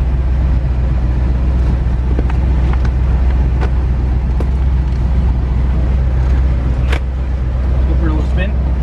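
A 1979 Pontiac Firebird Trans Am driving around the block, its engine a loud steady rumble heard from inside with road and wind noise throughout.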